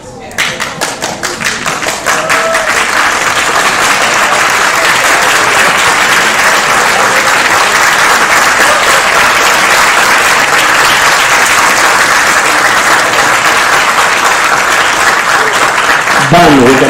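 A large assembly audience at a council meeting claps together in sustained, dense applause that swells in the first two seconds and then holds steady and loud throughout, with a faint voice underneath.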